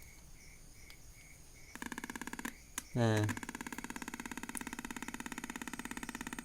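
A simple homemade capacitor tester checks a 1.3 microfarad fan capacitor and gives a rapid, even train of clicking pulses that starts partway through and keeps going. A short rising chirp and a brief spoken word come in the middle.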